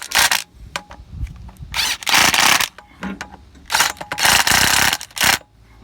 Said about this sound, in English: we're just getting this center bearing here tightened up